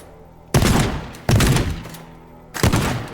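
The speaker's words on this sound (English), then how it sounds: "I am going to use a shotgun to smash this open." A shotgun blasting a brick wall in the video game Teardown: three loud, separate booming shots, each with a crumbling decay, spaced unevenly with quiet between them and no voices.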